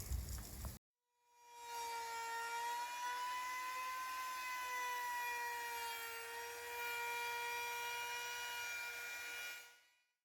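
A router whines at a high steady pitch for several seconds, spinning up abruptly and holding a constant tone while rounding over the edge of a wooden boat bowsprit, then stopping.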